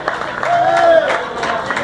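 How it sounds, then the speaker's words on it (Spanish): Applause from the crowd at a live concert in Barra Vieja Bar, a steady bed of clapping and crowd noise with a voice talking over it throughout. "Un fuerte aplauso para ellos."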